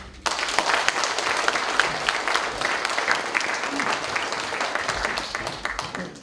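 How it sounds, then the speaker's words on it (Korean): A crowd at a regional table tennis association's chairman inauguration ceremony breaks into sustained, loud applause that starts abruptly and continues evenly for several seconds before fading out. "우리 최병택 회장님 께 박수 한번 드립시다."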